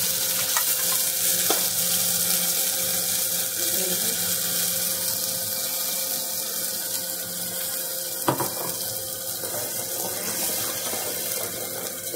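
Bhatura dough deep-frying in hot oil gives a loud, steady bubbling sizzle that holds throughout, with a couple of brief clinks or splashes.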